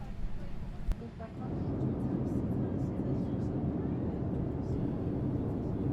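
A Boeing 787-9 Dreamliner on a Japan Airlines Sydney to Tokyo day flight, heard from inside the cabin as the engines build to a steady, loud rumbling roar during takeoff.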